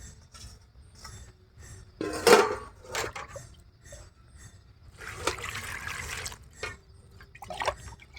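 Chopped spinach washed with water in a bowl: intermittent trickles and splashes with occasional clinks of a pot or utensil, a louder burst of running water midway, fairly close and without talk.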